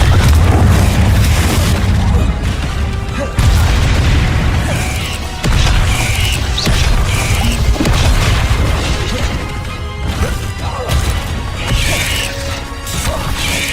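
Blasting spells fire repeatedly in the video game Hogwarts Legacy: a string of loud, heavy explosive booms and crashes, each followed by rumbling debris, in a dense, continuous game-combat barrage.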